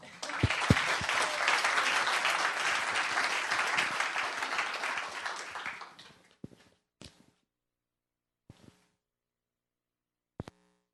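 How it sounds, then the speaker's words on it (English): A room full of people at a town council meeting breaks into steady applause lasting several seconds, then fades to near silence broken by a few faint scattered clicks and bumps. "Let's have a round of applause."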